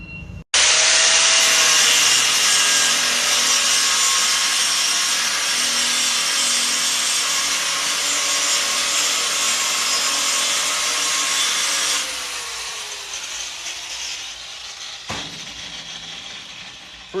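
A stick welding arc burns along beside the toe of a weld, a loud, steady crackling hiss that runs unbroken for about twelve seconds before easing off into quieter noise.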